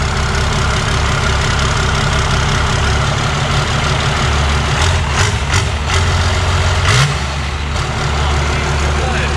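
A Ford Galaxie V8 fitted with a homemade nitrous system idles loudly on a dyno with a steady, rumbling low throb and slight lope, running continuously under shop noise.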